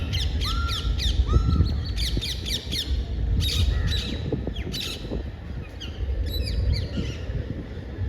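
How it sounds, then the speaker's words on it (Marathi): Parrots squawk near a city home in the morning, giving loud, harsh, repeated calls in quick bursts over a steady bed of other bird chatter, with no voices. "पोपटांचे आवाज येतात"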